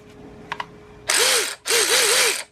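DeWalt 20V Max electric ratchet running on a larger 20-volt battery, with two loud whirring bursts with ratcheting clicks, close up, preceded by a couple of faint clicks and no talk.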